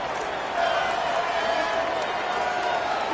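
A college football stadium crowd at Ole Miss versus Missouri roars steadily on third down, a dense, continuous wall of cheering noise with broadcast commentary talking over it.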